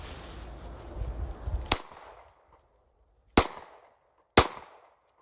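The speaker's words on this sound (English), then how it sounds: "I'm gonna shoot this little G2C." Glock G2C pistol firing outdoors: after a stretch of noisy rumble, three sharp, loud shots ring out at uneven intervals, each with a short decaying tail.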